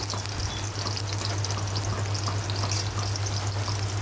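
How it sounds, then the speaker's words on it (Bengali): Sliced onions frying in a pan give a dense, even crackling sizzle with a low steady hum underneath, close and continuous, with no voices. "দেখতে পাচ্ছেন পেঁয়াজগুলো হালকা ভাজি করে নেব।"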